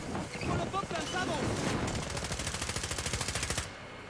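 Rapid automatic gunfire from the online shooter Call of Duty Modern Warfare, a steady burst of repeated shots near the end amid dense game noise and a voice earlier.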